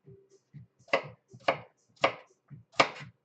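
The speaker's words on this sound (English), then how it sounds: "Just dicing down." Sweet potatoes being diced with a knife on a cutting board, four sharp, evenly spaced chops close by, each preceded by quieter taps and shuffles.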